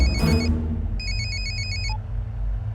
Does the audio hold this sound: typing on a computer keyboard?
no